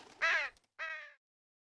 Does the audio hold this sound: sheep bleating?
no